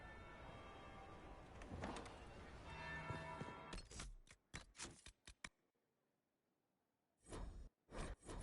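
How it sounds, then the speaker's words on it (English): Church bell tolling in the video game Dragon Age: Inquisition, ringing tones lingering for several seconds before fading, followed by scattered sharp clicks and taps with a near-silent gap between them. "That would be the second bell."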